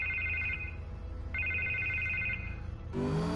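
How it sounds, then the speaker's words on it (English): Cell phone ringing in a Telltale video game, two electronic ring bursts with a pause between, fairly quiet, then a tone change as the call is picked up. "Give him a call on his cell phone."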